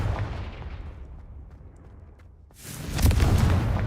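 A Confringo fire spell bursts in Hogwarts Legacy, a low rumbling tail fading out before a sharp, loud explosive blast about two and a half seconds in, heavy and booming to the end.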